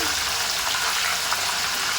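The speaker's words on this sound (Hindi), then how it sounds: "इसमें बबल्स आने लगेंगे और इसकी आवाज़ जैसे ही बंद हो जाएगी हम इसको निकाल लेंगे" Banana slices fry in hot oil after salt water is added, giving a steady soft sizzle of fine bubbling that stays even and close.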